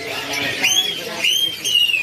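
A pair of perenjak (prinia) songbirds at the Pramuka bird market in Jakarta give short, bright rising chirps, repeated several times close by over steady market chatter.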